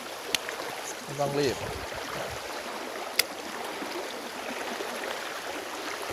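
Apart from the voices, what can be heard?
flowing stream water while fishing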